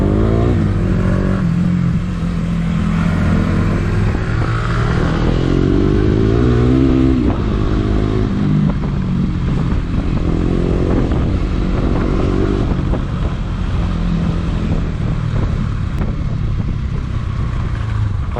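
A KTM motorcycle engine drones steadily throughout as it rides along on a faulty fake suspension, with rising and falling revs and some rattling clatter.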